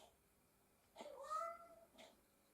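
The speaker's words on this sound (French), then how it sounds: "le chat qui a faim. Je ne sais pas si vous l'entendez." A single drawn-out meow from a hungry cat, faint and somewhat distant, followed by a short softer call.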